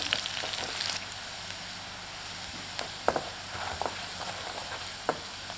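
Spices go into a pan of palak saag, which sizzles in a continuous soft hiss, with a few sharper clicks and stirring scrapes toward the end and no voices.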